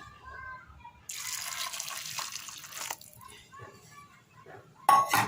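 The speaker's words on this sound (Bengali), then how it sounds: "এবারে আমি গরম পানি দিয়ে দেবো" Hot water is poured into a cooking pot of seasoned drumstick lentils, making a loud continuous splashing rush for about two seconds that then tapers into trickles, followed by a brief clatter.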